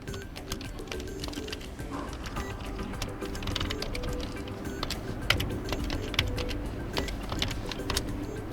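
Typing on the keyboard of an ASUS Chromebook C434T, a quiet, irregular run of light key clicks with a few sharper presses, close and alone against faint room hiss.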